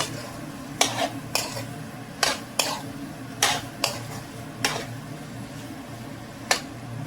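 A spoon scrapes and clinks against a pan about eight times in an irregular rhythm as paneer is mixed into a cooked masala, with a soft frying sizzle underneath and no talking.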